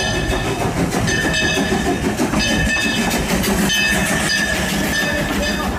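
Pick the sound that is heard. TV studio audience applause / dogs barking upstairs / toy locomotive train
toy locomotive train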